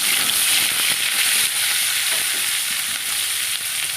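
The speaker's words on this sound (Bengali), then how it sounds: "রসুনটা যাতে তাড়াতাড়ি ভাজা হয়ে যায়" Steady, loud sizzling of garlic and onion frying in hot oil, a dense continuous crackle with occasional stirring clinks, no voices.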